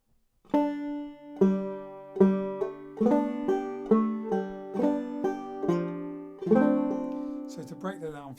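Clawhammer banjo picks out a phrase of the fiddle tune Red Haired Boy alone, with bright plucked notes and hammer-ons in a steady three-count rhythm, close and clear.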